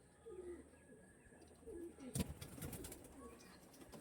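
Female pigeon cooing close by, with a few soft low coos spread across a quiet, hissy background, followed by a sharp handling knock and some rustling.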